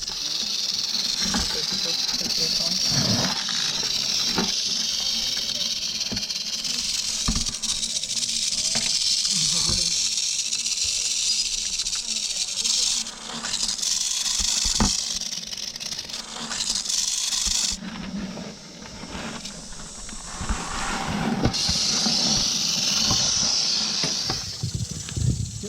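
An eastern diamondback rattlesnake gives a steady, close hiss that runs on throughout, with soft clicks and handling noises and people talking quietly underneath.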